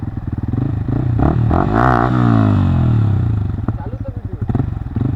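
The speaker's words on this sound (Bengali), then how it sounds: "তো বস, এখন হুইলি ট্রাই করব" A motorcycle engine revs up hard for a wheelie attempt on a road, its pitch climbing and holding loud before easing off, with people talking over it nearby.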